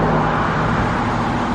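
Dense street traffic in Gatlinburg on a busy Labor Day weekend: a steady, close wash of car and road noise with no breaks.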